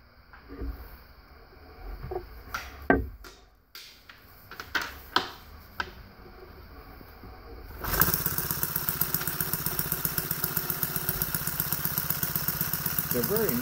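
A small model flathead side-valve engine is handled with scattered clicks and knocks, then fires up and runs close by with a rapid, even string of exhaust pulses.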